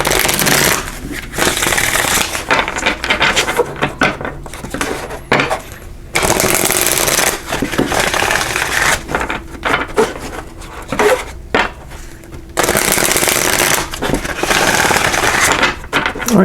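Energy Oracle cards being shuffled by hand: loud, papery riffling bursts separated by short pauses, close to the microphone, with no talking.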